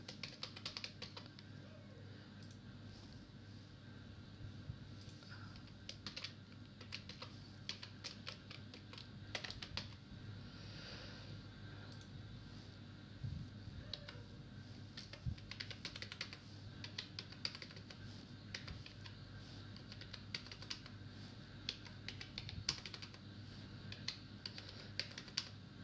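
Keys clatter steadily in quick irregular bursts on a computer keyboard while data is entered into an Excel spreadsheet, close and fairly quiet over a low steady hum, with no talking.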